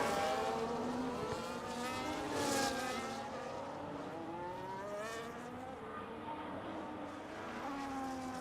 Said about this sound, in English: we have immediately a whole train of cars going out for qualifying